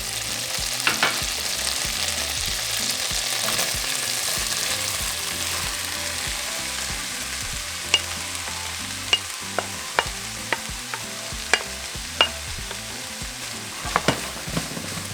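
Vegetables sizzle in a pan with chorizo, a steady close frying hiss broken by sharp scraping stirs and clicks of a utensil against the pan, with no one speaking.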